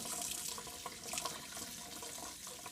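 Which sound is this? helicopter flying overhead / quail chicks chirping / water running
water running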